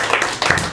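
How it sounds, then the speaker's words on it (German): Short round of clapping from a brewhouse audience on Norderney for the brewmaster, close and fairly loud hand claps in a dense irregular patter, with no talking. "Ein kleiner Applaus für unseren Braumeister"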